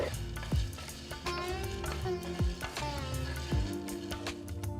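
Garlic cloves and curry leaves sizzle steadily in a pan over low heat, with a few clanking stirs of a utensil cutting through the frying.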